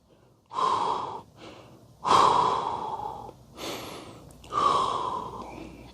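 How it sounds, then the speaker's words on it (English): Deep, heavy breaths during a standing hip stretch in a stick mobility workout, four long close-miked inhales and exhales in a slow, even rhythm with no talking over them. "Focus on your breathing, deep breaths."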